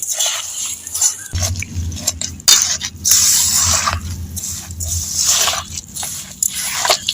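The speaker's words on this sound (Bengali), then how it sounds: "এবার আমি ভালো করে মেখে নেবো" Hands squishing and kneading a grated coconut, jaggery and sugar mixture for coconut naru, a continuous close, wet, sticky mashing with rhythmic pressing bursts and no voices.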